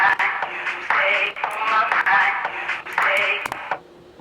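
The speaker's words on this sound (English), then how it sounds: "so that's my my echo. So you can hear it going ping pong" A music track, an edit with a ping-pong echo effect, heard as repeated bright, loud synth phrases bouncing in bursts that stop abruptly near the end.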